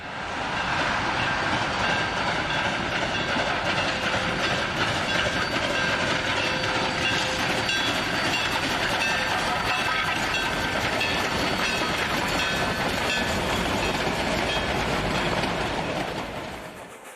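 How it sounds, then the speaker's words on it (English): A narrow gauge train on the Rio Grande line climbs a grade north of Hermosa, rumbling steadily for the full length, a loud, continuous mix of engine drone and rolling wheel noise with no talking. "The train works up grade north of Hermosa."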